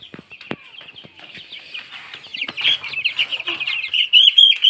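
Chickens clucking on a Bangladeshi family farm in winter, with a black hen among the flock; busy overlapping clucks and chirps build steadily louder, with occasional wing flaps and thumps close by.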